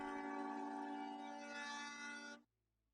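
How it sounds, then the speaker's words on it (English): A train horn sound effect played during a live stream: one loud, sustained multi-tone blast holding steady for over two seconds before cutting off abruptly into near silence. "Where's your train horn at?"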